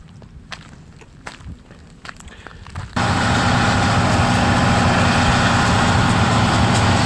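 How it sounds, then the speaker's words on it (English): A railroad locomotive on a Verde Canyon, Arizona excursion train suddenly roars up after quieter footsteps and ambient noise, then holds a loud, steady heavy-engine drone close by for several seconds. "here's the powerhouse right here. The train engine."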